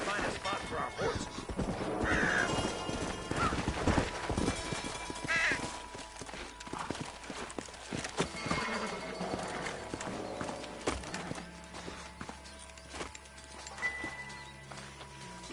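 Horses in the Red Dead Redemption video game clop steadily across ground, with hooves thudding close by, a possible brief whinny, and game voices and ambience mixed underneath.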